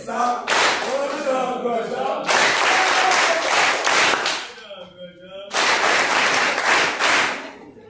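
Audience applause at a parish event, the launch of the pastoral year at Paroisse Transfiguration in Delmas, with a crowd clapping loudly in long bursts, a brief lull carrying voices between them.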